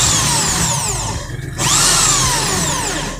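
A power drill with a sharp bit bores into the center of a bicycle screw. Its loud, whining motor cuts out for a split second midway, then resumes with the pitch sweeping downward, close and alone.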